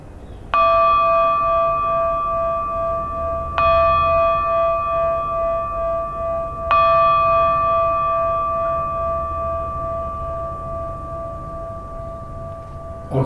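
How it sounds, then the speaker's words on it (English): A gong is struck three times at steady intervals, each stroke ringing out with a bright, sustained metallic tone that hangs and slowly decays before the next hit, heard clearly and alone without speech. "just focus on this gong."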